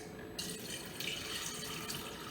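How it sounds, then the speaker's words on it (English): Rice being rinsed under a running kitchen tap, a steady close rush of water with splashy surges as the grains are washed, continuous throughout with no talking. "I'm starting by washing and rinsing the rice under water."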